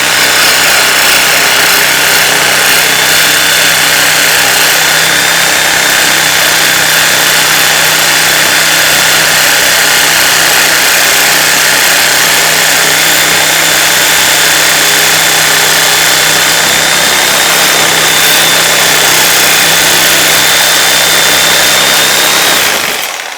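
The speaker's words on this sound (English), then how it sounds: "Either use that Sawzall. I bust this up. Cut it apart." Sawzall reciprocating saw cutting through a front under-frame bushing on a 1995 Dodge Intrepid, a loud, continuous buzzing drone held steadily for over twenty seconds before cutting off abruptly, with no talking.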